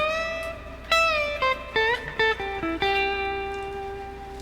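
Electric guitar plays a lick from a guitar solo, a clean tone with several picked notes and upward string bends, each note ringing out briefly in a lone, moderately loud phrase.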